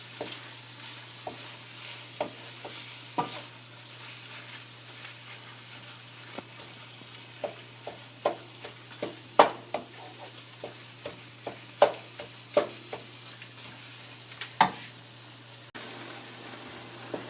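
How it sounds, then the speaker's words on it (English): Keema frying in a pan while being stirred, with a steady low sizzle beneath repeated sharp scraping and clacking strokes of the spoon, loud and close, with no talking. "And I'm going to fry this for 10-15 minutes."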